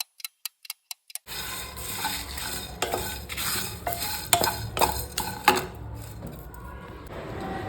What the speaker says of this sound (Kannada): ಕಡಿ ಪತ್ತ ಈ ಥರ ಕ್ರಿಸ್ಪಿ ಆಗೋವರೆಗೂ ಇದನ್ನು ಡ್ರೈ ರೋಸ್ಟ್ ಮಾಡಬೇಕು.